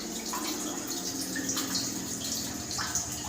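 Groundwater inside a treasure-hunting pit dug about 45 feet deep in the Visayas gives a steady, close trickling and splashing wash with a few brighter drips, and no voices.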